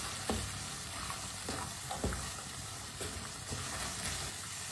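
Fresh peas fry in a pan while a spoon stirs them, steady sizzling broken by regular soft scraping strokes about once a second, close and quiet, with no talking.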